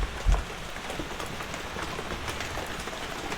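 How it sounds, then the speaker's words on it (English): Steady rain falls in the ghost-hunting video game Phasmophobia, an even, close hiss of drops with a soft thump near the start. "I can't hear anything with the rain in my ear."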